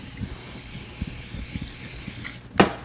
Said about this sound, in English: and we're going to spray our pan here.